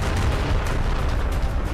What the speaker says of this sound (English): By listening to the shooting sound of the cannons